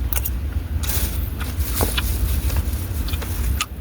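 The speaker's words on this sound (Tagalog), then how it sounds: "Grabing traffic sa daan." Heavy road traffic rumbling steadily close by: a continuous low engine drone with passing vehicle hiss and scattered light clicks, with no voices.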